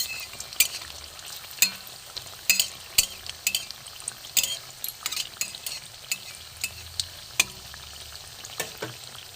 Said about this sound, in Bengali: পিঠেগুলো একদিকেই হয় ভাজা। এই যে তেলটা দিচ্ছি